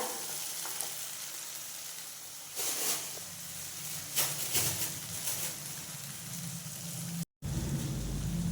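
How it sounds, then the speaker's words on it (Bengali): Spice paste sautéed in oil in a pan, frying with a steady close hiss and crackle, with louder stirring scrapes and bursts partway through, then a brief dropout before the sizzle returns. "কষাবো যতক্ষণ না তেল ছেড়বে"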